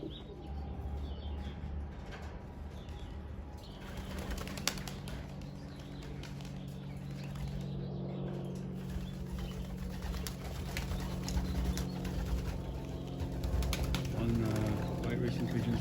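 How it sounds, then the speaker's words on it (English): White racing pigeons released for the first time, soft cooing and occasional wing flaps and chirps around a loft, fairly faint, with a person talking over them. "White racing pigeons flying."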